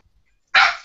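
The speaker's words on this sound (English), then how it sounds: "Sorry, dogs." A single loud, close dog bark, sharp and abrupt after near silence, fading quickly.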